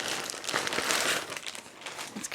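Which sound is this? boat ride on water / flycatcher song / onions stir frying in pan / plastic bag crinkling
plastic bag crinkling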